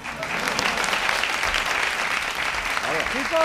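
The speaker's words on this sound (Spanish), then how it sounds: "Antonio, aplauso." Studio audience applause on a live Spanish TV comedy talk show, a dense sustained wash of clapping throughout, with a voice briefly audible near the end.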